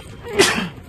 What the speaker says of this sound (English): Yes, I'm still sneezing like hell.